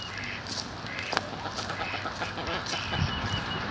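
Several chickens cluck and murmur nearby over a low outdoor rumble, with short scattered calls rising and falling.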